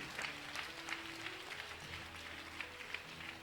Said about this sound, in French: Et acclamez pour elle.